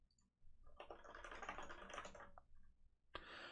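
Rapid typing on a computer keyboard, a dense burst of close clicking keystrokes, a short pause, then another quick flurry, heard alone without talk.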